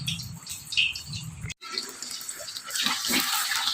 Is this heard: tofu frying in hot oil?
yes